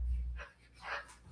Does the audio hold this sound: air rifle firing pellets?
no